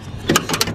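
A door on a 1994 Ford F350 4x4 Xtra Cab long-bed truck being opened outdoors, with two quick mechanical clunks of the latch and hinge close by, no talking.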